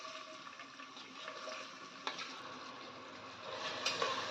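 Chopped onion and tomato go into hot oil seasoned with garam masala, giving a steady broadband sizzle and crackle with a light stir or clink partway through, close and fairly quiet.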